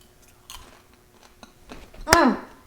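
Savory, mineral-rich popcorn seasoned with salt and a powdery cheesy rosemary coating, chewed up close with a few soft bites and then one loud crisp crunch near the end.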